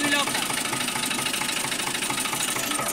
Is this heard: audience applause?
no